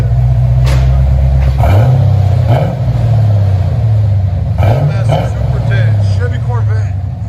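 A Chevy Corvette 5.7L V8 with an aftermarket cat-back exhaust revs hard close by, a deep, loud roar that swells and falls in repeated blips, with brief talk over it.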